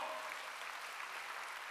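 Church congregation at a Wednesday worship service clapping in a steady, even wash of applause, fairly quiet and distant-sounding, continuing without pause.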